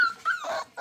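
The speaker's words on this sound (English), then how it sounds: "we've got our very first puppy" A puppy gives a few short, high whimpers and yips close by, broken into brief rising cries with small gaps between them.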